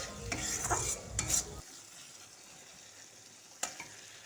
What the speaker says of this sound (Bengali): হলুদ গুঁড়ো দেবার পর আবারও কিছুক্ষণ মিশিয়ে নিতে হবে